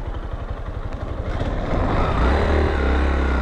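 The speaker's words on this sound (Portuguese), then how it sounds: "a moto atola" A motorcycle engine labors and strains at low revs while riding through deep sand, its rumble growing heavier and louder midway as it bogs down, with no voices.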